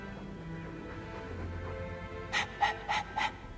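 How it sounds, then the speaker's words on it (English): A dog in the video game Dragon Age 2 pants in four quick, breathy bursts near the end, close and clear over a low ambient game backdrop. "All that noisy dog breath, day in, day out, make him stop."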